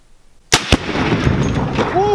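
A gunshot strikes an oxygen tank inside a locked safe: a sudden sharp blast, then a second bang, then a loud sustained roar and hiss of escaping gas, all close and loud.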